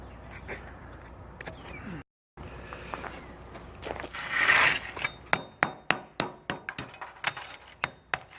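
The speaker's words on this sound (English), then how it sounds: "after you pour it, you can sit around, you can hear the mold cracking" Sharp, irregular cracks and ticks ring out one after another as a ceramic shell mold cracks while poured bronze cools, growing more frequent, with a brief hiss in between.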